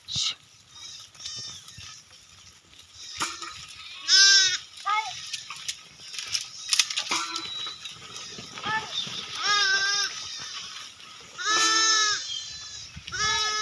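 Several sheep bleat close by in short wavering calls, scattered over a quiet outdoor background with occasional rustling.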